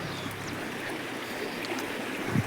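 Rainwater after a night of heavy rain running along a grassy rural path, a soft continuous rushing and trickling flow heard close by at low level, with no voices.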